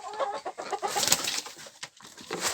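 A broody hen clucks and chatters in quick, broken bursts close by, busy and continuous, with scratchy movement mixed in.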